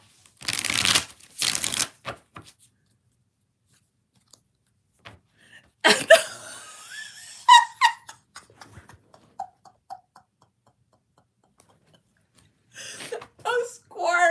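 Tarot cards are shuffled in two quick, crisp riffling bursts close to the listener, followed by scattered soft card handling and someone talking.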